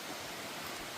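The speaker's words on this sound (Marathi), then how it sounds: "आणि मध्येच एक असा पाण्याचा झरा लागलेला आहे" A mountain stream flows through cool forest, a steady broadband rush of running water filling the scene evenly, close and continuous with no voices.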